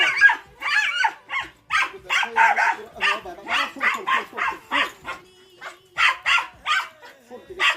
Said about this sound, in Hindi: ये मोर कुकुर